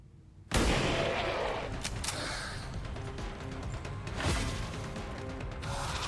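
Gunfire in the XCOM 2 video game, opening with a sharp onset into a dense, sustained roar of shots and impacts lasting several seconds, loud and close, with a second surge near the end.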